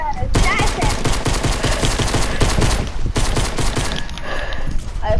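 Gunfire rattles through a PS4 shooter game, with a pistol among the weapons: dense, close bursts of shots run almost continuously, easing off slightly near the end.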